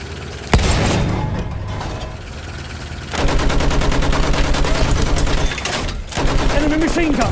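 Machine gun fire in the World War I shooter Battlefield 1: a sharp shot, then loud, dense bursts of rapid gunfire that rattle on continuously amid battlefield booms, with shouted voices mixed in.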